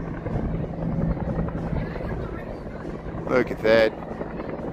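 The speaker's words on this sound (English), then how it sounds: "I think it's a police helicopter. It's coming in for a landing here at the Coast Guard station" A police helicopter comes in to land at a Coast Guard station near Navy Pier in Chicago, its rotor a steady low drone under wind noise, with a person speaking briefly over it near the end.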